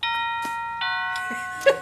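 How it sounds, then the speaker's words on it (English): A doorbell chime that a dog presses, with a plug-in chime unit that can go anywhere in the house, rings several clear, ringing ding-dong tones that overlap and fade, with light clicks and knocks between them. "It has a chime unit that you can plug in anywhere in the house."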